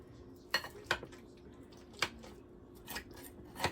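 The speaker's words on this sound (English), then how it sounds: "And we're gonna dish some up here." A serving spoon clinks and scrapes against a dish and plates at a few irregular moments while tuna noodle casserole is portioned out, the sounds close and fairly quiet.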